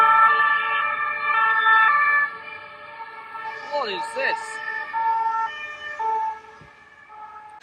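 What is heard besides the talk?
police sirens in city street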